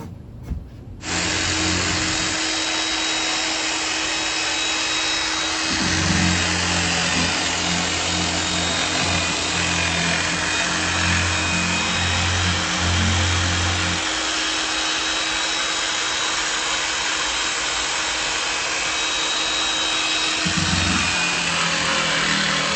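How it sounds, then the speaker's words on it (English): Jigsaw cutting a notch during a below-grade bathroom build, a loud, close motor whine that runs steadily for about twenty seconds, with two brief drops in load partway through and a faint constant hiss behind it. "This jigsaw is working like a champ."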